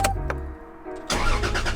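A Toyota Supra Mk4 JDM engine cranks and catches, starter churning for about a second before the motor fires into a loud, rough idle close by, with no talking.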